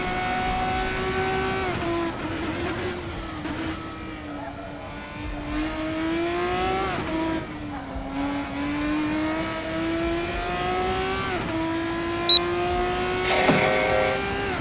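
An F3 race car engine in the F1 24 video game revs loudly and continuously, its pitch climbing and dropping through repeated gear shifts.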